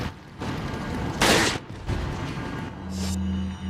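Rifle gunfire in the Resident Evil video game, a few sharp shots scattered among rumbling game sounds, one burst louder than the rest, ending over a steady low hum.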